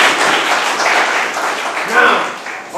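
A classroom of pupils claps for a classmate named Samuel, a loud, dense burst of many hands that swells slightly near the end, heard up close in the room.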